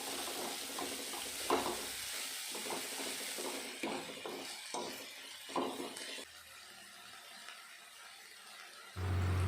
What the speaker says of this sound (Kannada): ಸಬ್ಬಸಿಗೆ ಸೊಪ್ಪು ಹಾಕಿ ಫ್ರೈ ಮಾಡ್ಕೊಬೇಕು